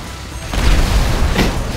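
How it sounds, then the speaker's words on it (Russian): A deep booming explosion erupts in the video game Grand Theft Auto V, a sudden low thump followed by a rumbling crash that lingers, with a second burst shortly after. "здесь вообще взрывается"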